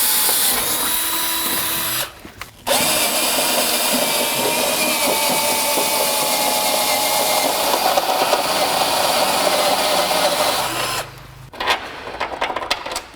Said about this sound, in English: This will work better if I drill a pilot hole first.